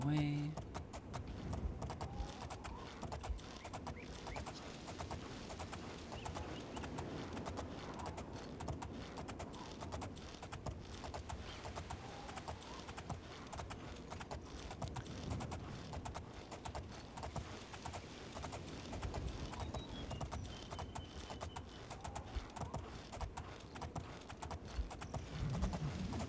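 Horse hooves gallop in the video game Oblivion, a steady rhythmic clip-clop running throughout at moderate level, with someone talking over it.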